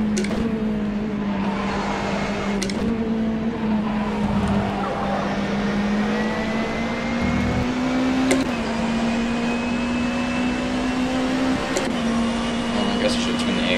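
An open-wheel 2014 race car from the PX mod in rFactor 2 at Silverstone, engine droning steadily with pitch rising and dropping through gear shifts, close and continuous, with someone talking over it.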